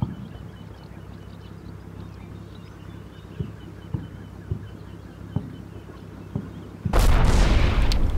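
Combat Mission: Battle for Normandy gunfire, a series of faint distant thumping shots at irregular intervals over a low rumbling background, then a louder sharp burst near the end.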